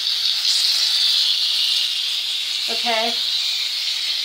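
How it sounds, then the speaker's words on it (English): A steam cleaner warming up and working on a surface gives off a steady, bright hiss that runs the whole time, while a person briefly says one word partway through. "once it starts up, it's kind of still working the warm up, but it will steam the surface clean."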